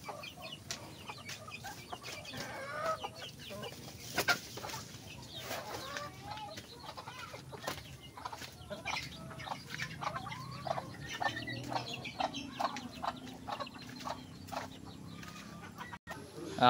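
Backyard chickens, including Texas fighting cocks, cluck and call softly in the middle distance on an afternoon outdoors, with scattered bird sounds and occasional wing flaps.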